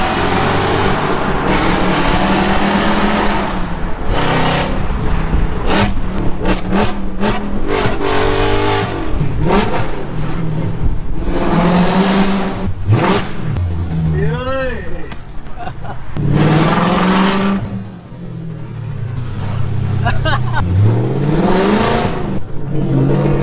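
An Audi S4 with downpipes and a remap, making close to 400 brake horsepower, drives hard with repeated loud engine revs and accelerations, roaring up and dropping off as gears change, while people talk over it at times.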